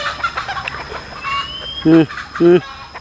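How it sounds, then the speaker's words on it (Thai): Two short, loud clucks from a nearby chicken, spaced about half a second apart, over faint background chatter. "เสียงไก่"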